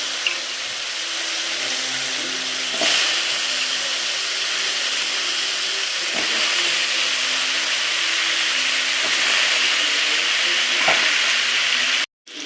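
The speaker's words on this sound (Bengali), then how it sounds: "ওই তেলটার মধ্যে আমি একটুখানি আলু আর কুমড়ো দিয়ে দিলাম" Potato and pumpkin pieces fry in hot oil with a steady, close sizzle, occasional stirring clatters breaking through the continuous hiss before it cuts off abruptly at the end.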